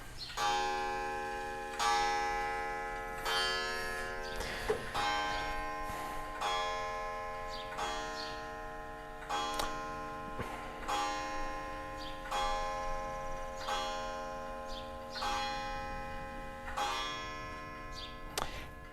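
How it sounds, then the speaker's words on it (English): A wall clock ticks steadily and evenly, its chime-like ticks repeating at a regular pace for a long stretch in a quiet garage workshop, with no one talking. "don't have a ticking clock. It chimes every hour"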